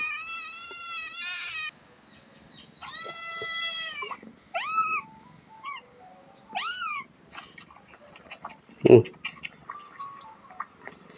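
A small cat at a temple in Chae Hom, Lampang, Thailand, meows repeatedly in a series of clear, close, rising and falling calls, with a sharp knock and faint voices in between.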